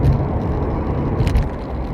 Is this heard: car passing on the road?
yes